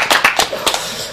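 A few people at a civic network's founding meeting clap briefly, several loud close hand claps in a short uneven burst that quickly fades.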